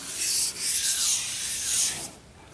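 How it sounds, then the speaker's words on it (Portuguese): Steady, close abrasive rubbing of sandpaper across a plastered wall, continuous strokes with slight swells and a brief lift near the end. "Aqui você vai entrar agora com a lixa 220, que é essa um pouquinho mais fina"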